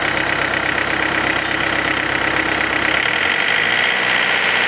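A running engine idles at a steady, loud, continuous drone with a bright mechanical hiss and faint knocking texture, its low rumble easing slightly near the end as the throttle is about to rise.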